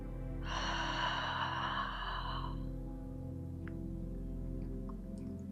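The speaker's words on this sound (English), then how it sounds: "Take a nice deep breath in and let it out." A person takes one long, audible breath, a breathy rush lasting about two seconds, then quiet with faint ticks over a low steady hum.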